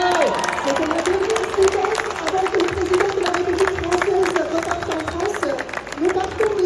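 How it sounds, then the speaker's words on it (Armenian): A crowd claps and cheers to see off President Macron, a dense patter of applause running steadily under a voice speaking over a loudspeaker. "ես ուզում եմ սկզբից դուք իրեն ճանապարհեք ձեր բուռն ծափահարություններով"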